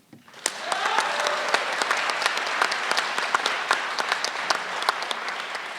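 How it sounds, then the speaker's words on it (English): A forum audience applauds the election candidates at a Calgary Rocky Ridge candidate forum. The clapping starts after a brief pause and holds at a steady level for several seconds, with individual sharp claps standing out and no talk over it. "give applause to each candidate once again"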